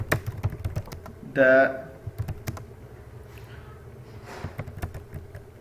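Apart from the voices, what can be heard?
typing on a computer keyboard while writing code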